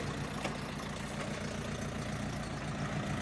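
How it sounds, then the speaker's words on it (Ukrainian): Diesel engine of a four-cylinder Mitsubishi MT 22 tractor running steadily while driving its rotary tiller, a continuous low rumbling drone heard close with no talk. "Запускай фрезу."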